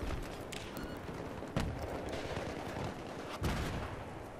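Gunfire in a Battlefield 3 Rush multiplayer match on Strike at Karkand: dense rattling shots under a constant roar, with two sharper, heavier bangs standing out, no voices.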